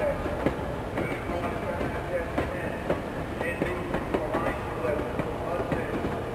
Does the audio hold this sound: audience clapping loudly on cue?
no